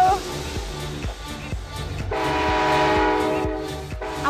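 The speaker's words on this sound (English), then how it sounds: "you want to blow the horn?" Train horn sounding from the cab as a large train pulls away, a sustained harmonic blast starting about halfway through after some clunks and rumble, loud and close, with people talking around it.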